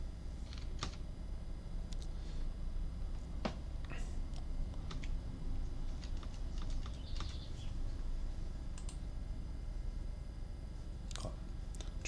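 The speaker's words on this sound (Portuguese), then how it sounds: "a gente vai digitar um CEP qualquer" Someone types a postal code on a computer keyboard, tapping out quick, light, irregular keystrokes with short pauses, close and quiet, over a soft steady background hum.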